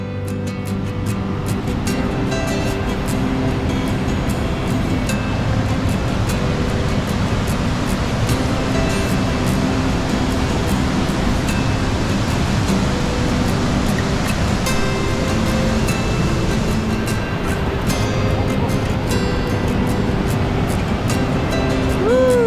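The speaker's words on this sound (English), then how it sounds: "Alongside the waterfall." A roaring waterfall in Yosemite National Park after a wet California winter, a loud, unbroken rush of crashing water filling the whole scene, steady and close with no letup.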